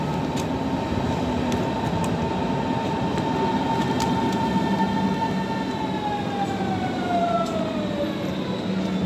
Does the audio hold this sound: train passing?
yes